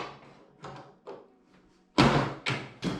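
A manual tile cutter scores and snaps a tile, giving a few soft knocks and then three louder, sharp cracking thuds close by, with no voices.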